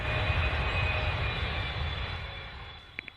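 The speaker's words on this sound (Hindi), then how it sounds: "पायलट राज और कैप्टन विकी अपने कैबिन पर गए और हवाई जहाज ने अपनी उड़ान भरी।" Steady roar of an airplane's engines taking off, loud at first and slowly fading as it climbs away, with a couple of faint short clicks near the end.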